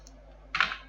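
A single short burst of computer keyboard keystrokes while entering VBA code for selecting cells, close and crisp over a quiet background.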